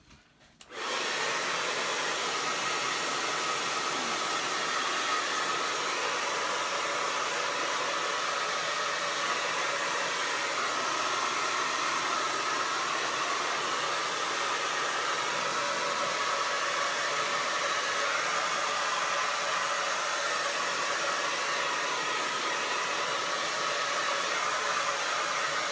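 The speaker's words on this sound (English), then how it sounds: "Get it with the hairdryer right quick." A hairdryer blows steadily on wet paint of a watermelon picture, a loud, close, unbroken whoosh that starts abruptly and runs on without pause.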